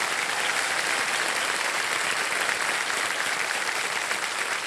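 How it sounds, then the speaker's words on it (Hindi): Studio audience of a television quiz show applauding for Krishna Abhishek, steady broadband clapping that holds evenly from start to finish at moderate volume with no talk over it. "तालियां बज जाए कृष्णा अभिषेक जी के लिए।"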